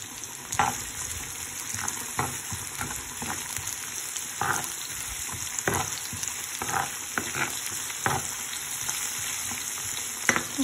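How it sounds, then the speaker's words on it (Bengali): Chickpeas fry in hot oil in a pan, giving a steady close sizzle broken by repeated scraping stirs at irregular intervals, with no voices. "সুন্দর করে ভাজবো।"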